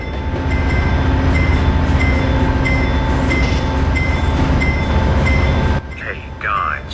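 Train rolling along the rails in the Rails of Highland Valley game, a loud steady rumble with rhythmic clicks that cuts off abruptly near the end, followed by brief quiet sounds.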